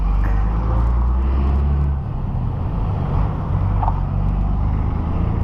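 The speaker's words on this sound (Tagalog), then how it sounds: "Traffic" City traffic on a Philippine street during a ride: a continuous dense rumble of car and vehicle engines, fairly loud and close, with no voices.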